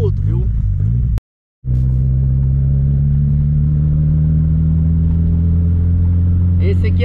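A turbocharged Chevrolet Chevette engine runs close by with a deep, steady droning hum, cut by a brief dropout before the low engine tone resumes and holds, with someone talking over it.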